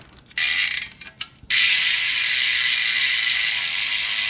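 The freehub of a Winspace Hyper 50mm rim brake bicycle wheel ratchets with a fast, buzzing click as the wheel spins, starting in short bursts and then running as one continuous rattle.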